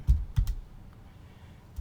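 A computer keyboard being typed on to enter a zip code: a few close, sharp keystrokes, three in quick succession and another after a pause, with no voices.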